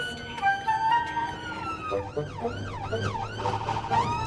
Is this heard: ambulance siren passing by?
yes